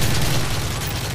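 A nine-banger flashbang goes off in the Modern Warfare 3 campaign, a loud, dense burst of overlapping bangs that fills the short moment with booming rumble.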